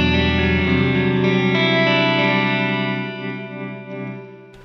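Electric guitar played through a Two Notes Torpedo Cab M with Cathedral reverb, a loud distorted sustained chord ringing out with a long, washy tail that slowly decays, alone without talk.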